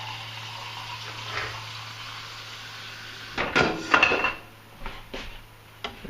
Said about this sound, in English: I'm going to add a little bit of water to it to help the stuff separate out.